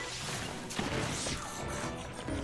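A club weapon breaks apart in Zelda: Tears of the Kingdom, a crunching smash over a dense wash of game ambience and effects lasting a couple of seconds.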